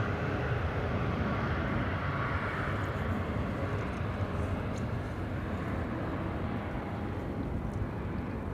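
A KLM Embraer E195-E2 airliner arriving at Amsterdam Schiphol makes a steady, loud broadband jet roar that holds for the whole stretch, with no voices over it.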